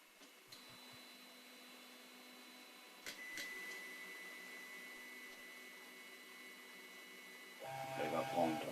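Dagoma Discovery 200 3D printer calibrating its bed and taking a measurement point: a faint, steady electric hum with thin whining tones and small clicks, rising to a brief busier burst of motor noise at the end.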